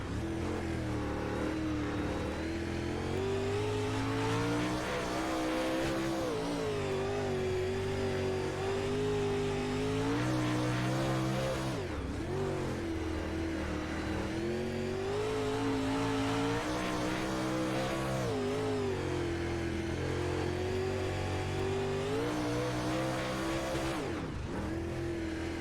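Steel Block Late Model race cars circling Fairbury Speedway, engines roaring continuously and loudly with rising and falling revs as they accelerate and lift through the turns, several cars running close together in a dense wall of sound.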